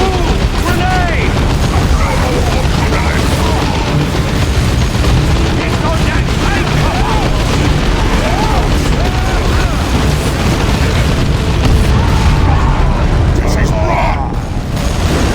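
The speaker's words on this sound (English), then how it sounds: "Grenade!" Loud, dense battle noise in Warhammer 40,000: Dawn of War 2, with booming blasts like a grenade going off among constant gunfire and rumbling, plus voices shouting over the din.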